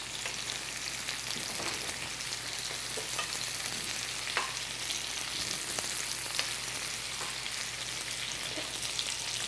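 Steak frying in butter with thyme, a steady close sizzle and crackle with scattered pops running evenly throughout.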